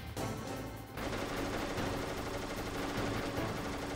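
Stinger missile launcher fire in Metal Gear Solid comes as a loud blast followed by sustained rumbling explosions and crackling, dense and continuous without a pause.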